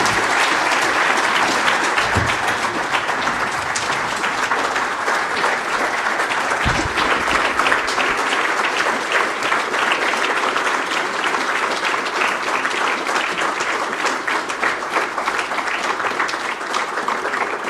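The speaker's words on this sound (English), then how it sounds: "I think we can give another round of applause." An audience at a memorial lecture applauds. Dense, even clapping carries on for nearly eighteen seconds without a break.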